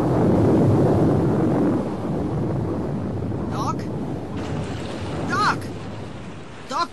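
A thunderclap rumbles loudly and low in a German radio play of Back to the Future Part II, then fades into a windy storm background with short whooshing sweeps.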